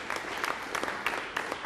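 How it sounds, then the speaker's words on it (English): Brief burst of crowd applause, steady clapping from many hands. "give them a big round of applause"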